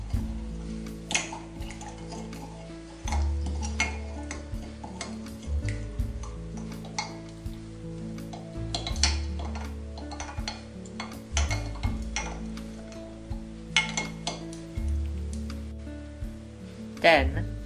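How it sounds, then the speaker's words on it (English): A spoon stirs salt into half a cup of water, giving repeated light clinks and taps against the cup in an uneven rhythm, close and fairly clear over a low background hum. "dissolve 1 teaspoon of salt in half a cup of water"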